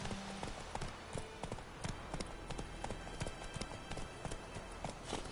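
Roach, a horse in The Witcher 3, trots with quick rhythmic clip-clopping hooves at moderate distance, steady throughout over faint ambient sound.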